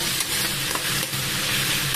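Continuous sizzling and crackling of two tomatoes with salt sautéing in oil in a pan, steady and close, with faint stirring scrapes underneath.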